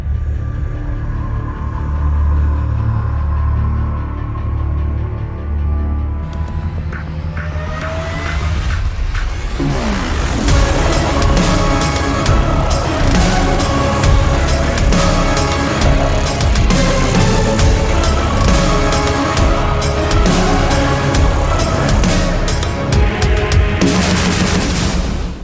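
A Toyota Supra GR and a Ford Mustang Shelby GT350 in a roll race: engines cruising steadily, then a sharp shift into loud, sustained full-throttle acceleration with dense exhaust roar and crackle, close and continuous.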